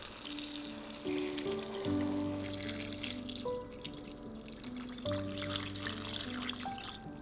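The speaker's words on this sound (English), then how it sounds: "Cover everything with water and bring it to a boil." Water is poured over vegetable scraps and herbs in a large pot for broth, a soft, fairly faint splashing and trickling stream under a backdrop of sustained musical tones.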